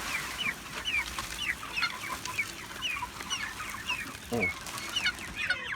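Young broiler chickens raised on corn peep and cluck continuously inside a barn, with many overlapping chirps, moderately close and fairly quiet.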